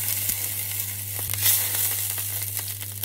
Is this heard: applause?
no